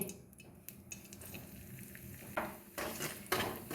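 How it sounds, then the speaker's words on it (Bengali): Rice flour is stirred in ghee in a kadai over low heat, a faint soft scraping and light sizzle with occasional spoon clinks against the pan and no talking. "আমি চালের গুঁড়োটা ঘিয়ের সাথে খুব ভালো করে একদম গ্যাস কমিয়ে কমিয়ে একদম ভেজে নেব"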